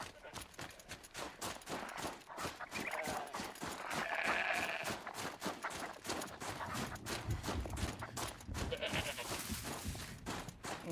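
A goat bleating in the Horizon Zero Dawn video game, a few short nasal bleats set against constant game action and crackling gunfire-like bursts, with a player talking over it.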